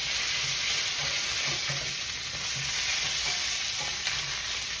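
Food frying in a covered skillet gives off a dense, even sizzle that hisses steadily the whole time, close and loud with faint stirring knocks underneath.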